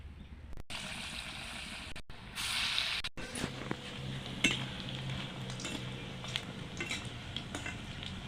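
Cauliflower koftas frying in hot oil, a continuous close sizzle with occasional stirring and utensil clinks, broken by a few brief cuts early on.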